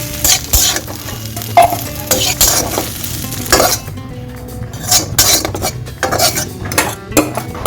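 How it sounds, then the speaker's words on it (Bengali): Okra and potatoes frying in a pan in a home kitchen, with a close, steady sizzle under repeated scraping and clinking strokes of a metal spatula stirring them. "আর এদিকে আমার ঢেঁড়স আলু ভাজাটা হচ্ছে"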